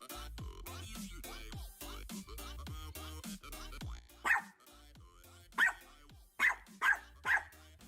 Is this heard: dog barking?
yes